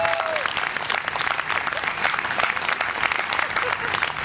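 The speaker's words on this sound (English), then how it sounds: "how about a big round of applause for Jack the Timmis on bass guitar?" Audience at a blues festival clapping in a dense, steady burst of applause, loud and continuous throughout, with crowd noise mixed in.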